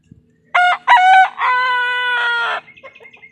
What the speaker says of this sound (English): that little rooster crowed